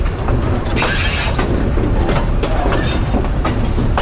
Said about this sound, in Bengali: লাইনের অবস্থা খারাপ যে জন্য খুবই ধীর গতিতে এই ট্রেনটা চললো